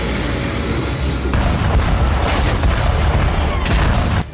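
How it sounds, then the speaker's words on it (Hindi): Air strike explosions at the Hezyaz power station in Sanaa, Yemen, heard as a dense, loud, continuous roar of rumbling blasts and crackling debris that fills the whole stretch, with a brief drop at the very end. "पावर स्टेशन पर धमाका देखा जा सकता है, जिसके बाद जबरदस्त धुआं उठता नजर आ रहा है।"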